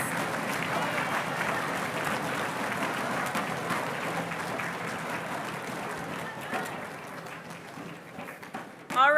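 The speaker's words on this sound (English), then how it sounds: "Let's give both Alexes a round of applause" Audience applause at a national middle-school math countdown competition, steady clapping from a large hall crowd for two contestants, broad and sustained before thinning near the end.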